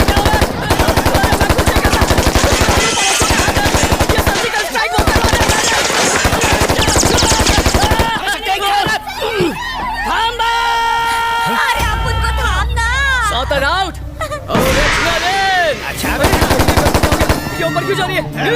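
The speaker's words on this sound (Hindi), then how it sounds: "कहाँ गोली चला रहा है?" Sustained, loud rapid-fire gunfire rattles on, giving way midway to a mix of shouts and other noises before heavy shooting resumes.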